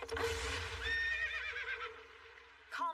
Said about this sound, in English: That silly old horse won't listen to a word I say.